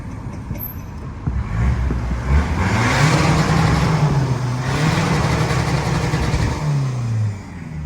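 A Citroën C-Elysée 1.6 HDi diesel with a tuned 140 hp, 320 Nm setup and a smoking cutout accelerates hard downhill toward top speed, its engine drone rising steadily and loud from inside the cabin with no talk.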